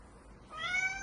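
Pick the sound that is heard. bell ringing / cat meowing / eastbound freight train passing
cat meowing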